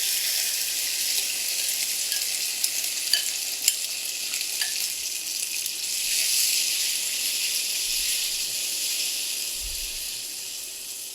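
Semolina and milk mixture hits hot caramel in a pan over lowered heat, giving a steady bright hissing sizzle that holds for the whole span, with a few faint clicks and a soft low thump near the end.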